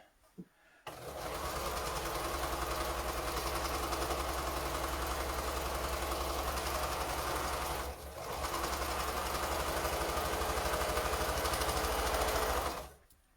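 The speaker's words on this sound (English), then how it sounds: "So we're going to sew the one seam and then the other." A sewing machine stitches a quilt seam in one loud, steady mechanical whir that runs for about twelve seconds, dips briefly near the middle, then stops abruptly, with no talking.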